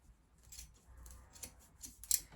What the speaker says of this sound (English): So just cut along the seam